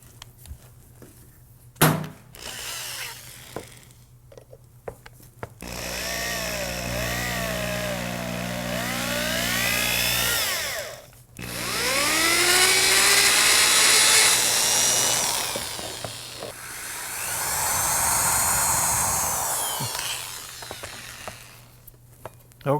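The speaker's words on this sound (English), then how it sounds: "Now I happen to have it on a drill motor here" A drill motor whirs in several long runs, tapping threads with tapping fluid, rising and falling in pitch as it drives, separated by brief pauses and clicks.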